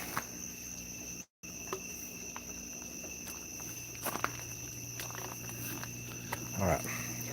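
Crickets chirp steadily through a night walk, with faint frog calls among them, a brief dropout and a few footstep scuffs near the middle.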